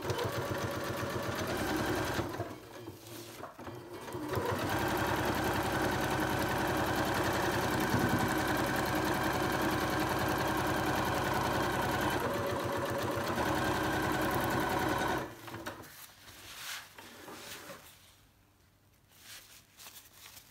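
A sewing machine runs steadily as it stitches slippery fabric for a drawstring bag, a continuous close whirring hum for about fifteen seconds that stops, followed by quieter handling noise.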